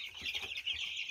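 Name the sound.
chickens clucking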